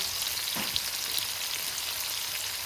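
Sliced onion, 150 grams, sizzling in hot oil for a chicken mushroom bhuna curry, a steady dense crackle throughout with a brief stir or clatter near the start, close and fairly quiet, no talking.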